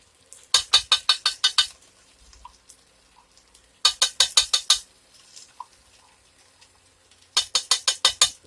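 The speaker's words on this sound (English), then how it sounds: "Now, let's get that stirred in." Homemade beef stew is stirred in a big pot, with three bursts of quick, rhythmic scraping and clinking strokes separated by quiet pauses, close and fairly loud, with no talking.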